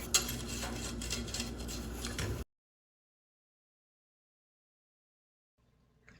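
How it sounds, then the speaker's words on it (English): Caramel being whisked in a pan makes a brisk, close metallic scraping and clinking for a couple of seconds, then cuts to silence, with a faint rustle returning at the end. "I'm just going to kind of slowly whisk this as we go."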